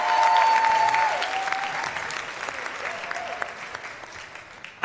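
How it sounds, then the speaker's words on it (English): Audience applause at an awards evening show for a troupe of dancers, a dense steady clapping that is loudest at the start and tapers slightly, with faint tonal whistles or cheers over it. "Let's get another round of applause for those Emerson dancers."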